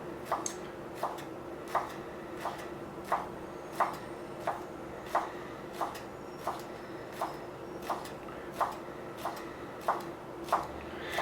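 A Santoku knife slicing basil leaves on a cutting board, giving steady, evenly spaced soft taps about once per second, quiet and close, under a faint background hum.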